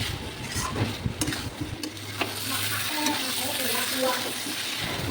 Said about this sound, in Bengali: এবার ভেজে রাখা পটলগুলো দিয়ে দেব এবার মিশিয়ে একটু নেড়ে চেড়ে নেব